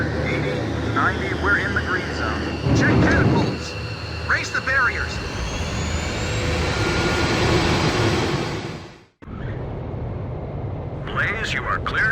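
In the Ace Combat 5 video game, a jet fighter builds power on an aircraft carrier catapult: a loud, rising engine whine and roar under intermittent radio chatter, cutting off abruptly before a brief quieter stretch.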